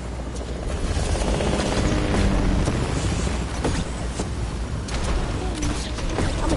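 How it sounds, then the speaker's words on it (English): A helicopter in a shooter video game whirs steadily and loudly throughout, a continuous rotor and engine drone with no talk over it. "Oh my god, we got the chopper. It's gonna blow up."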